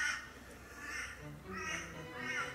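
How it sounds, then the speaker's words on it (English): Birds in an autumn garden, several moderately faint, repeated honking, quacking calls like ducks or geese, spaced about every half second to one second against quiet background. "Very quiet apart from the birds."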